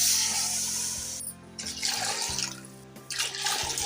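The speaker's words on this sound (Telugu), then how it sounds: "6 కప్పులు పోస్తున్నాను వాటర్" Water is poured into a cooking pot for a wheat-flour noodle-style dish, a steady splashing pour with brief breaks, close and fairly loud, with no voices.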